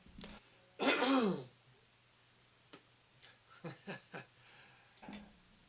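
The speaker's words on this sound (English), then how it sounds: "I got a cough again." A person gives one harsh, loud throat-clearing cough, followed by several softer, short throat-clearing grunts spaced a second or so apart in a quiet room.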